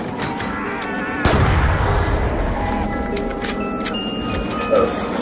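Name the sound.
Type 25 rifle gunfire in Black Ops 2 Zombies video game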